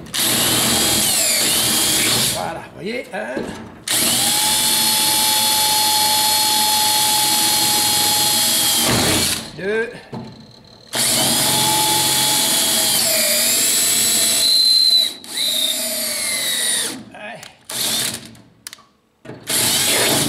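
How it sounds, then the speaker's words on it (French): A power drill drilling out rivets on a Dyna Panhard X12 cabriolet whines loudly in several long bursts with short pauses between, each run steady and high-pitched, and a brief spoken remark near the end. "je prends la perceuse"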